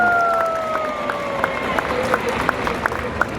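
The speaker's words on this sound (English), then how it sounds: "I think that deserves another round of applause." An audience claps at a sea lion show inside a large shopping mall, with sparse, scattered hand claps and two long sustained whistle tones at the start.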